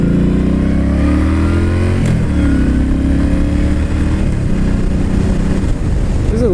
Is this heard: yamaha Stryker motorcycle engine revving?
yes